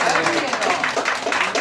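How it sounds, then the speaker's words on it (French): Audience applause at a Paris award ceremony for baguettes, a dense, steady wash of clapping from a crowd filling the short stretch, fairly loud and continuous. "on va l'applaudir, ça va l'encourager."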